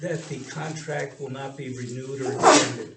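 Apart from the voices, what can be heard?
sneeze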